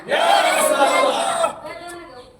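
A crowd at a religious Eid-e-Milad-un-Nabi procession chanting slogans together, one loud sustained unison shout lasting about a second and a half, then fading into murmur.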